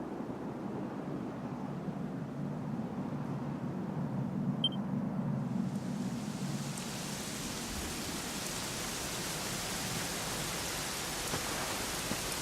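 Steady rain falls in Dragon Quest XI, a constant broadband hiss with a low rumble beneath, unbroken throughout with no voices.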